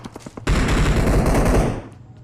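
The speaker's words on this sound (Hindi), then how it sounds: "यहाँ पे भाई फायरिंग बहुत हो रही बस है।" Heavy automatic gunfire in the BGMI battle royale game erupts after a few light taps, a loud sustained burst of rapid shots that cuts off into a fading tail, with no voices.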